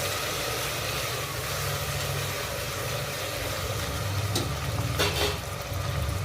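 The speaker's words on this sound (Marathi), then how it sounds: "त्याच्यामध्ये आपण एक बटाटा टाकू, परतून घ्यायचं" Potato pieces sautéing in a pan over lowered heat for vegetable pulao, a steady broadband sizzle and stir hiss with a low hum beneath and a couple of brief scraping clatters near the end.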